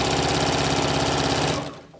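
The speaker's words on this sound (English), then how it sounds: "Because I'm doing 3 layers, I'm always making sure I'm getting all 3 of them." Sewing machine stitching through three layers of fabric, a loud, fast, even mechanical chatter that runs steadily before winding down and stopping near the end.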